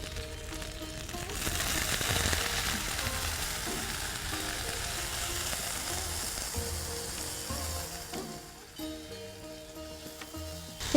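Baby corn and chopped eggplant fry in a pan with a strong, continuous sizzle and intermittent stirring scrapes, fading somewhat toward the end, with no talking.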